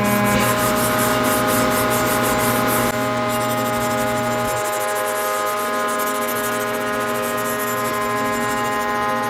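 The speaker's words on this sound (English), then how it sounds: "I'm just going to take my little piece of Scotch-Brite and just go over everything, make sure it's nice and clean" Scotch-Brite pad scrubbed over a metal transmission case from an early Porsche 901/902 manual transaxle, giving a steady, close abrasive rubbing that runs the whole time with a faint hum beneath and no talk.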